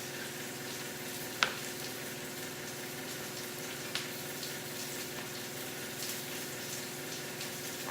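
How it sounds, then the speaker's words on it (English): Chicken frying in a pan, a steady soft sizzle with a couple of faint clicks and no talking. "meanwhile, the chicken is cooking"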